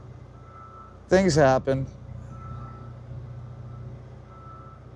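A semi truck backs into a loading dock in Southern California, giving a short burst of loud reversing beeps over a low idling engine drone, with a brief spoken remark nearby.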